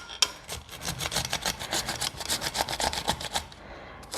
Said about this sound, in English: I'm just gonna grate some cucumber up over a bowl